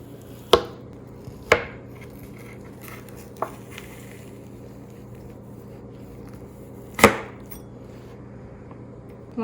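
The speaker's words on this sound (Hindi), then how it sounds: "अब हमने इसे जो भी साइज़ में आपने स्लाइसेस बनाने ना, उस साइज़ में आपने इसको काट लेना है" A knife slices through a chilled, firmed-up potato pizza, giving four sharp cuts with irregular gaps between them, the last and loudest near the end, set against a quiet room hum with no talking.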